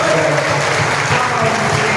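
A church congregation claps together in a dense, loud, continuous burst that carries straight through the whole moment, with voices mixed faintly into the noise.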